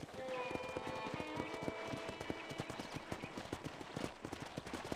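A horse's hooves clip-clop at a steady trot in Red Dead Redemption, a rhythmic thudding that runs throughout at moderate volume beneath people talking and game music.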